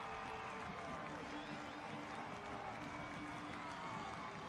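A stadium crowd at Trinity Health Stadium roars in a dense, continuous wash of cheering after Hartford Athletic's 84th-minute goal against Louisville City FC, heard at a distance and fairly faint throughout.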